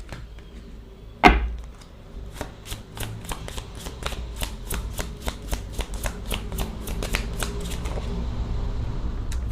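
Tarot cards being shuffled, a sharp knock at the start followed by a run of quick, crisp riffling flicks that speed into a dense patter, close and alone without talk.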